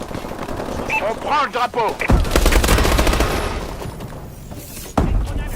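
Rapid gunfire from a first-person shooter game rattles in bursts, with a loud boom midway and a sharp crack near the end, while someone talks in French over the start.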